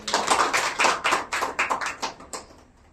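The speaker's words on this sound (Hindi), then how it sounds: "इनके लिए जोरदार तालियां बजनी चाहिए।" At a school gathering of an inter college, a small audience gives a short burst of sharp, distinct hand claps in a quick uneven rhythm, fairly close, thinning out and stopping after about two and a half seconds.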